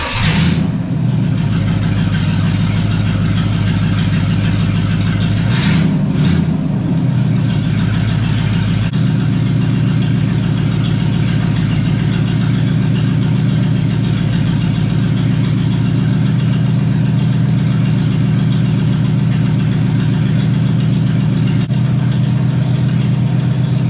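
A 1976 Chevy LUV truck starts and its engine runs steadily with the wheels spinning, a loud close drone that shifts in pitch early on and then holds a constant idle-like hum.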